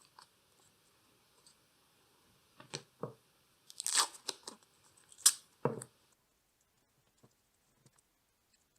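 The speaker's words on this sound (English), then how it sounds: "you can also tape the ends" Tape is torn and pressed on while shaping the ends of epoxy resin Christmas decorations: a few sharp, close, quiet rips and crackles cluster in the middle of an otherwise near-silent stretch.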